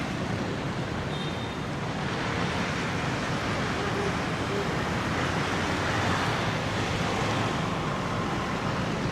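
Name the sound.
waves and beach ambience at a Da Nang beach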